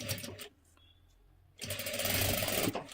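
A sewing machine double-stitches the seam of a one-piece jacket, with a short whirring burst, a brief pause with faint handling, then a longer loud continuous run.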